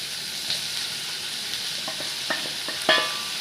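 Onion and tomato sauté in an oiled pan with a steady sizzle, broken by scattered clicks and scrapes as they are stirred.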